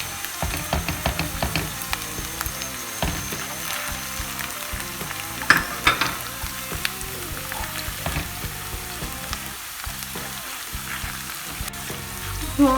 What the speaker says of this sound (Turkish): Soğanlarımız kavruldu. Salçamız da kavruldu.